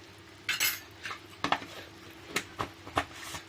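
A spoon taps and scrapes against a pot or container while adding home-pounded ground pepper and cumin to crab rasam, a handful of light clinks in an irregular rhythm, close and fairly soft, with no talking.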